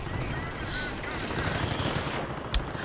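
A heavy machine gun fires in a WWII strategy video game with fast rattling bursts under general battle noise, then a sharp louder crack near the end.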